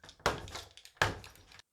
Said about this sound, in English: Next, I heard a key in the door. My door opened.